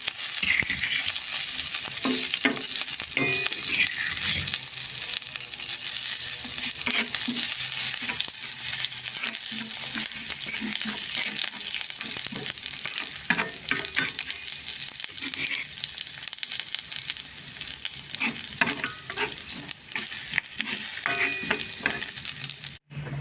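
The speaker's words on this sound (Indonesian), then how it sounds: "Kita tumis bumbunya." Spice paste with bay leaves and galangal sautés in a pan, a continuous close sizzle with frequent scraping and clattering stirs over about twenty seconds, no voices.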